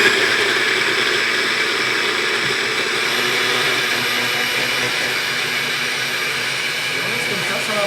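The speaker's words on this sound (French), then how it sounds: "Et on va mixer tout ça pendant quelques instants." A kitchen blender whirs loudly and steadily for several seconds, mixing ingredients with a little water into a smooth green purée like gazpacho.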